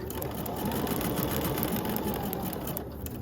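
A sewing machine stitches quilt fabric pieces in a fast, continuous close-up whir, steady throughout with no voices.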